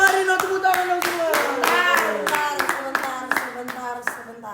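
A studio audience claps in quick, uneven bursts while a voice sings or calls out over the applause, close and fairly loud.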